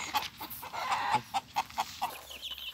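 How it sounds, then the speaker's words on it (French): A flock of 29 chicks and chickens, silkie, common and Pekin, cluck and peep close by in a run of short, bright bursts with small gaps between them. "Donc là on se retrouve avec les poussins."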